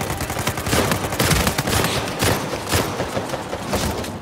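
Rapid gunfire from the video game Uncharted 4, with dense overlapping shots and bursts crackling in quick succession across a chaotic firefight, loud and continuous throughout.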